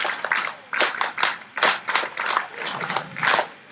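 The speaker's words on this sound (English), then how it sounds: "So I would humbly request you to clap a big round of applause to our Rotarians who are here present from the stadium." Audience clapping at a Rotary club gathering in a stadium, fairly sparse, uneven hand claps from a modest group rising and falling in irregular bursts, close and clear.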